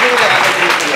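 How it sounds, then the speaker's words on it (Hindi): A class of students claps together loudly and densely in a short burst of applause in a group classroom in Vishwas Nagar, Delhi. "सब, आप ताली बजाओ।"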